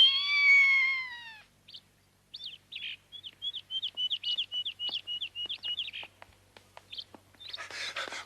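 A kitten's meow opens, a clear, bright harmonic cry lasting over a second, followed by a long run of quick, high chirping calls and a short burst of noise at the end.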